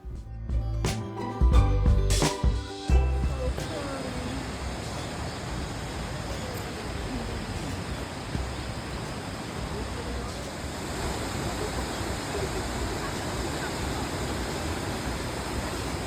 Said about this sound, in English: Jeju Island, guys. Natural waterfall.